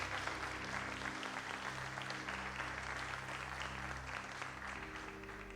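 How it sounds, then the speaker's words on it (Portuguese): A church congregation applauds together, a broad wash of clapping carried under a sustained low instrumental drone, fairly distant and even. "Aplauda o Senhor e glorifique o seu nome bem forte"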